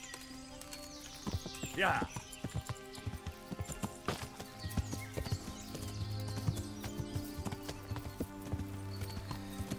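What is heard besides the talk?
horse hooves while riding, from the video game Kingdom Come Deliverance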